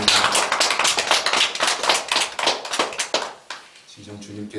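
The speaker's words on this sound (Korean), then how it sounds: "우리에게 은혜 주신 하나님께 영광의 박수 올려드리겠습니다." A church congregation at a Korean Sunday worship service breaks into loud, brisk applause lasting about three seconds, many hands together, before it fades and a voice begins speaking.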